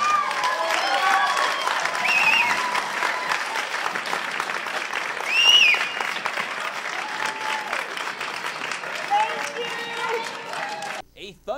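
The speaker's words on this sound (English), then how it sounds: "A thunderous applause for those against the open pit mine at Thursday's hearing on the Liberty Quarry." Loud, sustained applause and cheering from a crowd at a Riverside County hearing on the Liberty Quarry open pit mine, with whoops rising over the clapping and voices mixed in before it cuts off.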